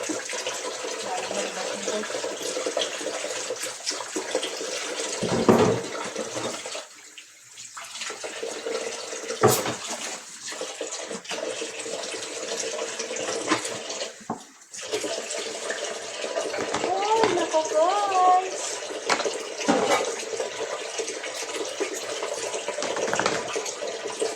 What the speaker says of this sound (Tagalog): Hugas tayo guys, ng hugas.